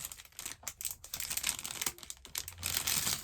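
Plastic packaging crinkling and rustling up close as it is pulled open, in irregular crackly bursts with brief pauses.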